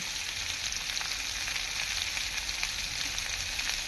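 Potatoes with salt and turmeric fry in a pan, giving a steady, dense sizzle that holds at an even level throughout, with no voices.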